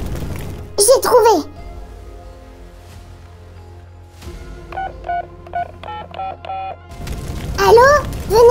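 Telephone keypad tones as a phone is dialed to call the firefighters in a toy play scene, a run of about eight short, evenly spaced beeps, with children's voices talking before and after.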